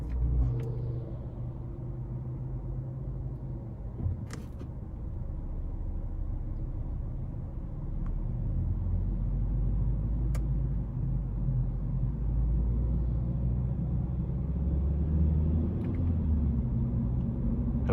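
A 2022 Honda Civic Sport 2.0 sedan with a CVT, in sport mode, pulls away under acceleration with a steady low road rumble and engine drone heard from inside the cabin, rising slightly over time, with a few faint clicks.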